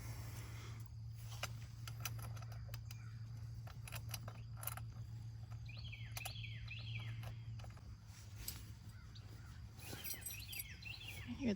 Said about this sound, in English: I hear the birds singing us a song this morning.